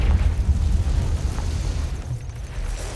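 The Confringo blasting curse in the video game Hogwarts Legacy goes off as a heavy, low rumbling explosion near the listener, then decays into a dull roar that fades slightly over a few seconds.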